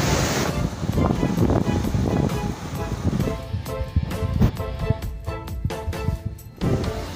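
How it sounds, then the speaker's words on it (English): Ocean surf breaks on a clean beach in Ghana, a loud continuous roar of waves with wind buffeting the microphone and voices talking faintly underneath. "look at the ocean"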